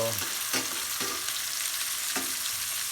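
Jalapeños frying for salsa verde, a steady close sizzle in a pan broken by a few sharp clacks as the peppers are turned, with no talking.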